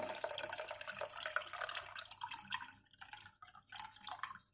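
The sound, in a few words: pineapple juice being poured into a glass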